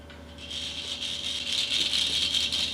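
A small baby rattle shaken continuously at close range, a bright, busy clatter that grows slightly louder over a few seconds.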